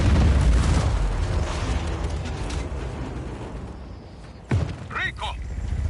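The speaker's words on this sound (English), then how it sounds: "the explosion, the gunfire, it's unnerving" Deep, rumbling blast from the Just Cause 4 video game fills the opening seconds, a loud low boom decaying slowly, with a sharp crack and clattering debris following later.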